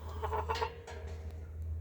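Australorp chickens cluck softly at night, a few quiet, quick clucks over a low steady hum, with no voices.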